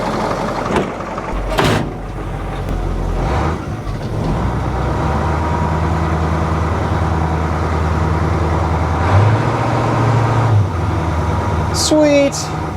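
An old Ford L8000 water truck with a dragging brake idles then rumbles off, its low diesel drone steady under occasional clunks and a brief squeal, with a person speaking nearby.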